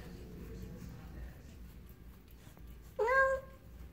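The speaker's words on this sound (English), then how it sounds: "Get away, the cat's trying to move in." A cat lets out a single drawn-out meow outdoors near a palm tree, fairly close and clear over a faint hiss of background noise.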